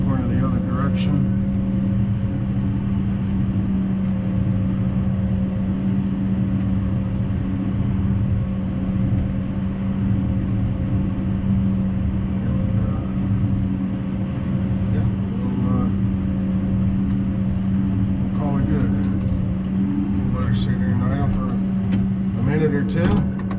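An old truck idles with a steady low rumbling drone as it swings around to park beside an old Kenworth and an old White, and someone talks over the engine throughout.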